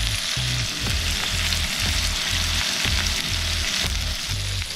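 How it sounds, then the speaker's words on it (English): Ribeye steak and vegetables sizzle loudly on an outdoor cooking surface, giving a dense, continuous frying hiss with a low rhythmic thumping underneath, close and without talk. "We'll cook them right there too"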